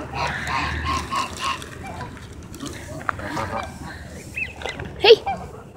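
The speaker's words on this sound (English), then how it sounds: "I'm here feeding some ducks." Ducks being fed give honking, quacking calls, with a sharp louder burst near the end, while a person talks over them close by.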